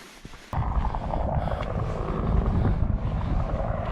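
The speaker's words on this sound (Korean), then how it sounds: "헬기는 계속 맴돌고" A low, continuous rumble of a helicopter circling above a canyon near Three Sisters Falls in San Diego, moderately loud and distant, setting in abruptly after a quiet start.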